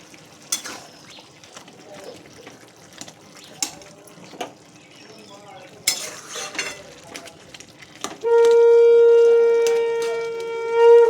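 Cabbage and potato curry cooks in a pan on a low gas flame, with light intermittent scrapes and clatters of stirring. A loud, steady whistling tone then takes over for the last few seconds.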